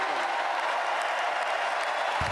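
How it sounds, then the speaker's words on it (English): Audience applause at a formal speech event where an executive order requirement is announced, steady dense clapping throughout, loud and continuous with no voices over it. "Why are they clapping for that?"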